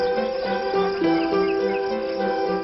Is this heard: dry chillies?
no